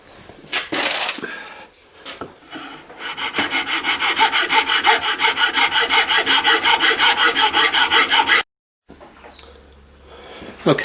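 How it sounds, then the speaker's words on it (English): Hand file rasping on a wooden Telecaster guitar body, a close, loud run of rapid rhythmic back-and-forth strokes for several seconds, preceded by a few scattered scrapes and followed by a brief pause. "I'm going to do a bit more filing."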